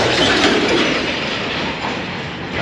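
A train rolls steadily over a railway, a continuous broadband rumble with clattering wheel noise, moderately loud and sustained throughout.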